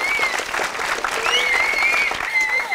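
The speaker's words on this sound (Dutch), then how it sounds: "Ik wil bij deze nog 1 keer een oorverdovend applaus voor Ilyes Bouchypti." Ear-splitting applause for an award recipient at a school football cup event, steady dense clapping from a crowd throughout, with some whistles or cheers mixed in and faint voices beneath.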